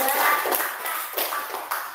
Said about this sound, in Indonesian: Kelompok 2 2, tepuk tangan.